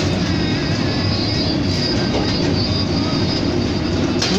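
A sugarcane juice pressing machine runs in a shop, crushing cane. Its dense, continuous mechanical rumble and grinding is loud and steady throughout, with no speech over it.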